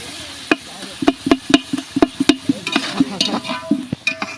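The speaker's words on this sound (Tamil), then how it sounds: "இப்போ வந்து பச்சை மிளகாய் போட்டுக்கலாம்" Green chillies go into a large pot of chicken biryani big enough for five kilos of chicken, followed by stirring: a quick run of sharp scraping and clanking strokes against the metal, loud and close over a faint sizzle.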